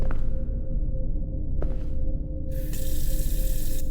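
Water running from a tap in a spooky horror video game, a steady splashing stream with a brief knock partway through and a brighter hiss in the last second, no talking.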